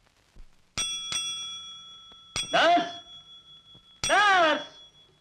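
A bell rings in two separate bursts of bright metallic ringing, each decaying with a lingering tone, loud and close with short gaps between.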